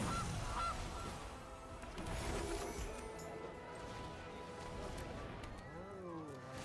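Gilded Goose card honk from the video game Magic Arena, a loud goose honk under game noise with a voice talking early, and a few clear honks near the end.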